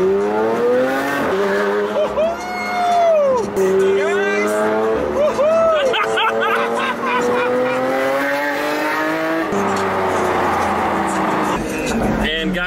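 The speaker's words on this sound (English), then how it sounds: "We are now in a Lamborghini Aventador." A 2014 Lamborghini Aventador drives in Las Vegas, its engine loud and close with revving, rising and falling pitch as it accelerates and shifts, while people talk over it.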